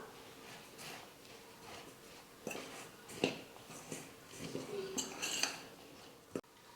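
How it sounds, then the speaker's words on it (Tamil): Metal spoon clinks and scrapes against a bowl as snack ingredients are stirred together, with irregular taps and a sharper clatter near the end, fairly close. "இப்போ இது எல்லாத்தையும் சேர்த்து நல்லா கலந்து கொடுத்துக்கலாம்."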